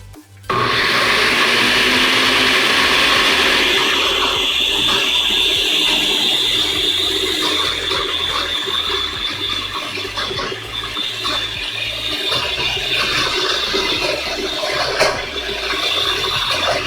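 A countertop blender purees vegan mac and cheese sauce with a loud, steady whirring roar that starts abruptly and holds nearly unchanged throughout, with a slight churning wobble.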